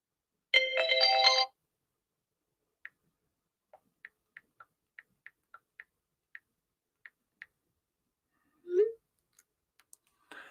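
A phone ringtone rings in a short burst of layered electronic tones, followed by a series of faint, evenly spaced ticks or clicks, then a brief chirp near the end, with no talk.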